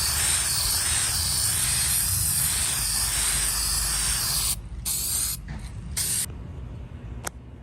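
Aerosol black paint sprayed onto parts of a 1950s Sears Dunlap drill press, applied with no primer: a loud, steady close hiss for several seconds, then a few short bursts separated by pauses.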